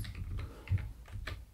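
A computer keyboard clatters as a SOMMEPROD spreadsheet formula is typed, with a quick run of close, soft key presses in an uneven rhythm.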